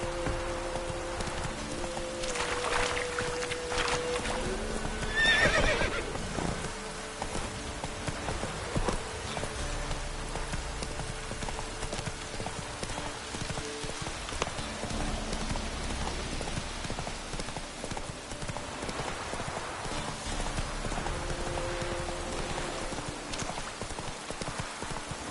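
Roach, the horse in The Witcher 3, gallops through rain in a steady clip-clop of hooves. The hoofbeats are muffled under a continuous hiss of rainfall that fills the whole stretch.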